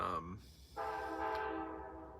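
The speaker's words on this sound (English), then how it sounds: "oh, there's the train." A train horn sounds from a balcony, a long steady blast over rumbling rail noise that fades slightly toward the end.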